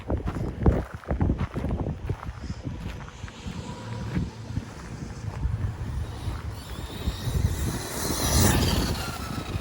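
A race truck engine drives at part throttle, a rough, fluctuating roar heard at a distance through heavy wind buffeting on the microphone, rising toward the end, with no clear talk.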